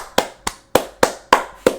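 Six sharp hand claps ring out in a loose, unhurried rhythm, each one crisp and close with a short decay between them.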